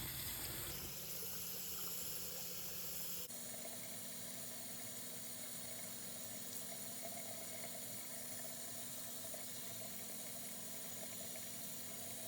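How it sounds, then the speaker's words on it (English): Tap water runs steadily into a sink while baking soda is rinsed off a doll's shoe, a constant faint splashing hiss whose tone shifts once after a few seconds. "Make sure to rinse off the baking soda really well so that it's all off the shoe."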